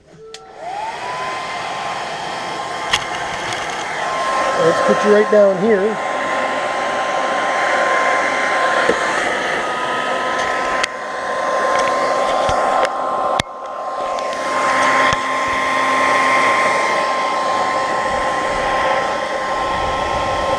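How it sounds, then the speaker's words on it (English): A hair dryer blows hot air at a chemical reaction with a steady, loud whir for the whole stretch, its pitch shifting slightly; a person speaks briefly over it near the start. "Hang on, let me get the hairdryer."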